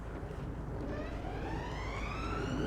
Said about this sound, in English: I'm sure you can hear the police siren as well very clearly.